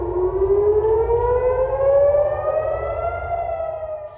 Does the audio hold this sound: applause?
no